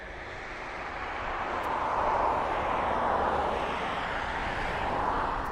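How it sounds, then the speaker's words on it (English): An aircraft taxis at East Midlands Airport, heard as a steady broadband jet roar that swells gradually and holds, fairly distant and without speech. "I think there's something actually taxiing down the taxiway,"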